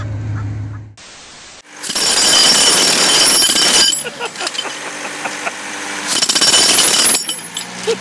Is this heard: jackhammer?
yes